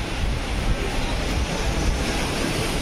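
Rough, stormy sea driven by a typhoon, waves crashing continuously against the shore with heavy roaring surf and strong wind buffeting the microphone, loud and close, no voices.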